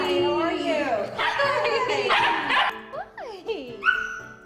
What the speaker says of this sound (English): When the doorbell rings and your dog runs to the door, barking and jumping at people, that's inappropriate behavior.